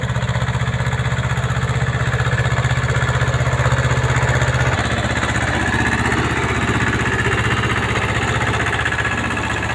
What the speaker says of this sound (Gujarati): મિની ટ્રેક્ટર કપાસની અંદરમાં નિદ્રમણને સાફ કરવા માટે કટર લાવ્યું છે